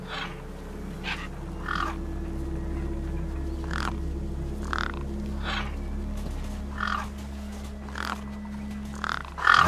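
Birds feeding on a corpse propped against a rock give repeated short croaking caws, spaced every second or so at middling distance, over a steady low hum and a faint sustained tone.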